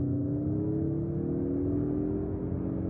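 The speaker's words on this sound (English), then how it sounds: "At full throttle, the exhaust note is a deep but largely unremarkable roar." A 2023 Mazda CX-30 GT Turbo with the Skyactiv-Turbo engine under full throttle, a steady deep droning exhaust roar with a rising engine tone, heard from inside the car, no talking.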